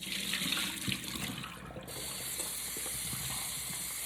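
Tap water runs steadily into a sink while dirty water is rinsed out of a container during mushroom prep for plant-based wraps, a close continuous hiss and splash that briefly falls away then resumes.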